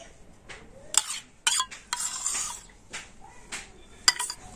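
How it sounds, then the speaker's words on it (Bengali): A spoon mixes semolina, sugar and sour yogurt in a bowl, making repeated close clinks and scrapes against the dish in an uneven rhythm, with soft stirring between the sharper knocks. "তো এবার আমি সমস্ত উপকরণ খুব ভালোভাবে মিশিয়ে নেবা"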